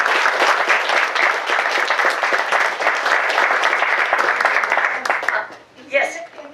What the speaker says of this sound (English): Carolyn, I think you deserve a round of applause.